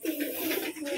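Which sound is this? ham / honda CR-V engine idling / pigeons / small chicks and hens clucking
pigeons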